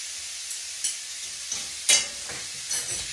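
Bacon fries in a pan with a quiet, steady hiss, broken by a few louder crackles and spatters spaced unevenly.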